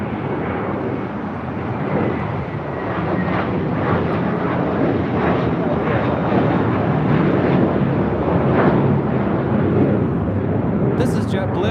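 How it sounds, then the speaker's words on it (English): A JetBlue Airbus A321 taking off at LAX for JFK makes a broad, loud jet roar that builds and stays strong, heard beneath intermittent talk. "This is JetBlue 424 taking off to JFK on an A321."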